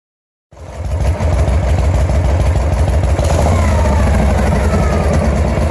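A motorcycle engine bursts into life after a brief silence and keeps running steadily up close, a loud, throbbing low-pitched idle with a fast, even pulse and no voices over it.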